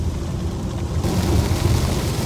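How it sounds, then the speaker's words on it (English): Pouring rain heard from inside a car while driving to work in nasty weather, a loud dense steady wash with low road rumble underneath, no voices. "nasty weather, pouring rain"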